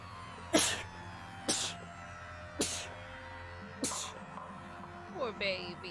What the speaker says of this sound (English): a pile of sneezes